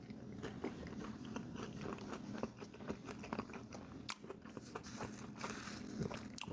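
Someone bites into and chews Raising Cane's fried chicken meal close to the mic, with irregular crunchy bites and soft mouth sounds over a quiet room, no talking.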